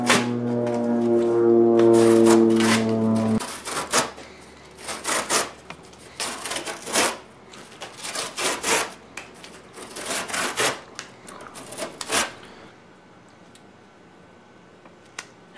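Cold Steel Mini AK-47 knife slicing through thick 3/8-inch cord in a garage, a series of short rasping cuts in uneven bursts, preceded by a steady low hum.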